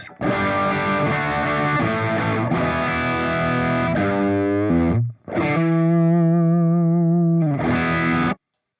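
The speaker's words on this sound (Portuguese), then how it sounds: "De cara já é um som de guitarra muito bom e muito realista" An electric guitar run through the Tangie amp plugin, giving a loud, distorted tone. Sustained chords ring, then a brief dropout and a held note with vibrato follow, ending on another chord, and no voice is heard.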